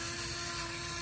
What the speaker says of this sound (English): I am gonna add a little more pepper to this, mostly because I love my new pepper grinder